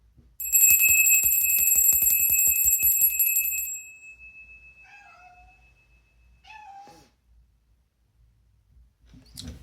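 A small bell rings in a rapid, bright trill for a few seconds and then fades, after which a house cat gives several soft meows.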